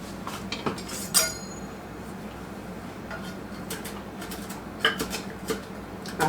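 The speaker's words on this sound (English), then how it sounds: "Chop just a few right here on the butcher block." Pecans chopped on a wooden butcher block: scattered knife taps and clicks in small clusters with quiet gaps between, close and fairly faint.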